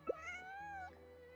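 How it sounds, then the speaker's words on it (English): A cute cartoon kitty in a video game gives a single soft, drawn-out meow, clear and alone over a quiet background hum. "A cute kitty, but not the real kitty"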